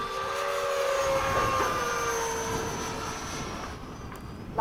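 An E-flite 80mm F/A-18D RC model jet roars past on a gear-down pass, its loud turbine whine holding and sliding in pitch as it passes and then fading.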